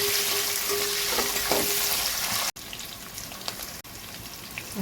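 Onion and curry leaves sizzle and fry steadily in a pan, a dense crackling hiss with occasional stirring clicks, close up and continuous, briefly interrupted twice by short cuts.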